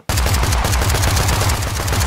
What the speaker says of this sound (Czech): Střelbu. Různý střely.